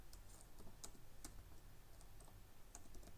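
Faint keystrokes on a computer keyboard as code is typed, a sparse, irregular string of soft clicks close to the microphone, quiet with no talking.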